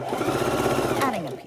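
A sewing machine hums steadily as it stitches strips for a log cabin quilt block, with a voice speaking over the motor the whole way through.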